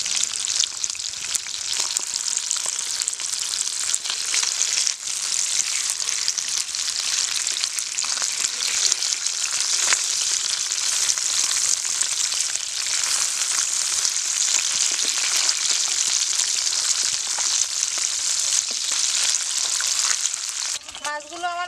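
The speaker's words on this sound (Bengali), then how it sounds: "মাছটা আমার একটু ভাজা হয়ে গেছে মাছটা তো আমি উল্টিয়ে দিচ্ছি" Pabda fish frying in a pan after being turned over produces a loud, continuous close-up sizzle that holds steady for the whole stretch, with a brief clatter near the end.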